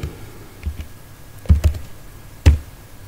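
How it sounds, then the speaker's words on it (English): Keys tapped on a computer keyboard while entering a value into an SQL query, a few sharp clicks in small bursts, close and fairly quiet, with no talking. "So here I am typing 20"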